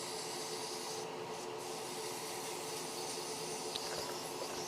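Sandpaper rubbing against a spinning wood-turning piece on a lathe, a steady, even, close-up rasping hiss with a constant machine hum underneath.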